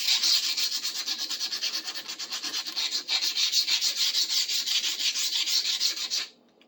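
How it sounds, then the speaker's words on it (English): Sanding on a rusted metal object recovered from the bottom of a bucket, with rhythmic back-and-forth rasping strokes that are close and steady, ending abruptly, no voices. "let's sand this down"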